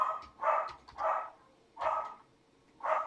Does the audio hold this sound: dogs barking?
yes